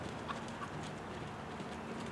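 Horse hooves trotting on an arena surface during a dressage leg yield by an upper-level horse, a soft steady rhythmic clip-clop heard at moderate distance over a constant background hum.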